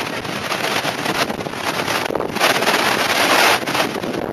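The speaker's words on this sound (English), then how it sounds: "There's a hell of a wind blowing through it right now after that funnel cloud." Strong wind roars across the microphone over Lake Simcoe just after a funnel cloud, a loud continuous buffeting rush with gusts swelling and easing.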